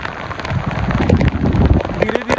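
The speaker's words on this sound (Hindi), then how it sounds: "और एकदम से स्टार्ट हुई बारिश।" Heavy rain suddenly pours down steadily in Rajasthan, pattering densely on surfaces nearby, with a few louder drops and splashes standing out.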